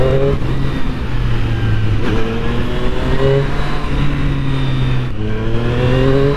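A 2020 Triumph Street Triple motorcycle engine revs up close and loud, climbing in pitch through a few repeated pulls with short dips between them.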